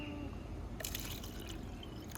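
Melted candle wax pours into a bubble candle mold, a soft, close liquid trickle that starts midway and continues steadily over a constant low background hum.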